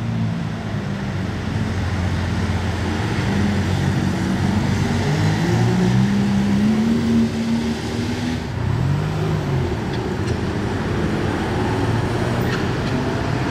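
A convoy of hypercars rumbles past in Monaco in a continuous roar, engines rising and falling in pitch as they go by, fairly loud and close, no voices.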